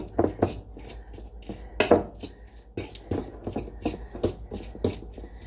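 Green egg salad being mashed and stirred in a bowl, with repeated close clinks and scrapes of a utensil against the dish in an uneven rhythm.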